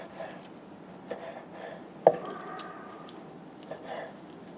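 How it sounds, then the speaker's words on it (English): A sharp knife chops through chicken on a wooden block, giving a few soft, irregular cuts and one crisp, louder knock against the wood, close by with no talk. "Cut it up on a wooden block too."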